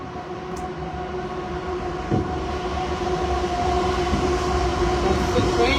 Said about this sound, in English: That's the train we're talking about,